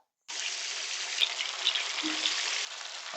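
Masala-coated chicken pieces drop into hot oil for a street-stall style chicken fry, bursting into a sudden loud sizzle that stays steady and close before easing slightly at the end.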